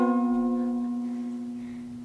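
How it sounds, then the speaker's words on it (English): A single sustained plucked note from a ukulele missing one string, ringing with clear harmonics and slowly fading, fairly loud and close with no voices. "now your ukulele will sound like this"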